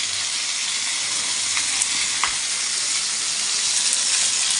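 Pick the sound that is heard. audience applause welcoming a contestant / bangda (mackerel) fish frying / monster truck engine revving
bangda (mackerel) fish frying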